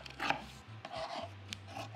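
Scissors cut through fabric at close range in short crisp snips and rubbing strokes, alone without speech, over a faint low hum.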